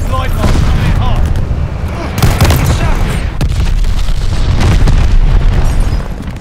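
A Call of Duty bombing run unleashes a dense barrage of loud, rumbling explosions and bursts, one overlapping the next with hardly a pause, close and heavy across the whole stretch.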